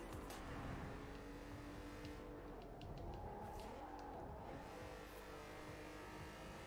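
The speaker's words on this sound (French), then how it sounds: "Nice drift." A car drifting in a racing-style video game mode, its engine droning steadily with shifting pitch and a faint tire squeal as it slides through a turn, loud and continuous throughout with no talk.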